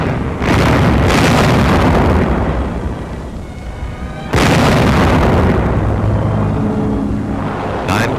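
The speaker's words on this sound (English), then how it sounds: "camouflaged 105 howitzers on gun carriages opened up with a bombardment of warning" 105 mm howitzers on gun carriages fire a bombardment, two heavy booming blasts with long rumbling decay, loud and close, followed by a distant sharp crack.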